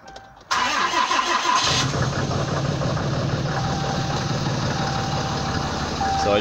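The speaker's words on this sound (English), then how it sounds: "I'm gonna go ahead and do a cold start on it for you so you can get a listen." A 2013 Ram 2500 HD pickup truck engine cranks on a cold start and catches with a surge, then settles into a steady, rumbling idle close by.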